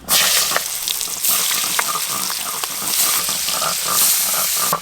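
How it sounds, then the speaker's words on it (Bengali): Giant freshwater prawns fry in hot oil with a loud, continuous crackling sizzle that holds steady for several seconds, close up with no talking. "তেল গরম হয়ে গেছে"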